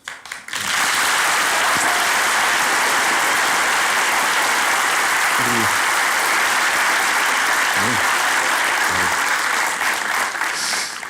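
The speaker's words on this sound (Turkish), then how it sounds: "Seni neden alkışladılar?" An audience breaks into long, steady applause that holds at full strength for about ten seconds, with a few faint voices beneath the clapping.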